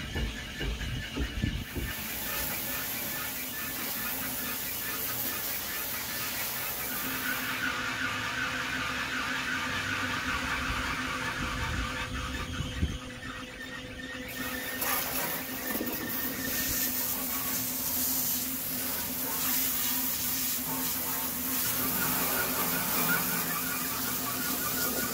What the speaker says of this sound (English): The pump speed is set at 35 at the start of cleaning.